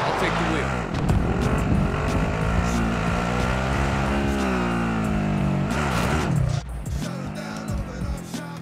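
Car driving in Call of Duty: Modern Warfare: a loud, continuous engine drone with shifting revs and tire noise, plus sharp impacts and clatter near the end and a voice over parts of it.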